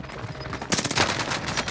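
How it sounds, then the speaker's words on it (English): A PPSh submachine gun firing in the video game Warzone Rebirth, a sudden close burst of very rapid shots that starts after a quiet moment and rattles on steadily to the end. "Man, this PPSH is popping!"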